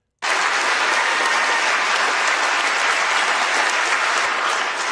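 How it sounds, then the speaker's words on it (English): Extended applause from a large crowd, dense and loud clapping that starts abruptly and carries on steadily without a break. "Oh, extended applause."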